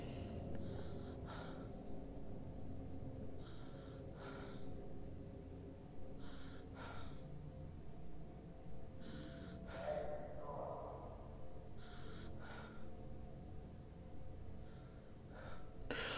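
A person breathing loudly in a series of sharp gasping and snorting breaths, regularly spaced and close, under a quiet game background with no talk.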